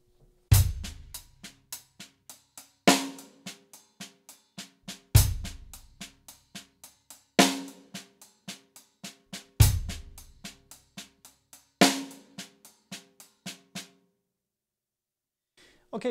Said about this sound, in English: Then we also have the triple paradiddle,